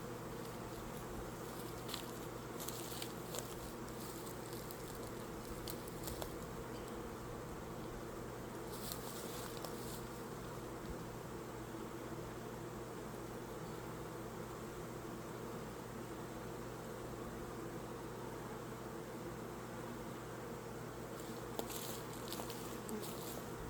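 Bees swarm around an open hive during a spring inspection, a steady dense hum holding at close range throughout with a few brief brighter surges of wingbeats, no voices.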